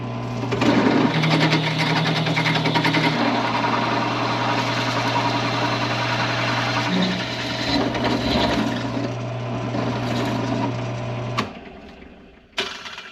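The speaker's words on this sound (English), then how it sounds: "now we can take this over to the drill press and start popping these holes in it" A drill press bores holes in a plate for a transmission mount, its motor whining steadily with a hum and cutting noise for about eleven seconds before spinning down, followed by a couple of clanks.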